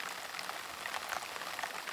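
Steady rain patters outdoors as a dense, even hiss with faint scattered drops, fairly soft and continuous with no voices over it.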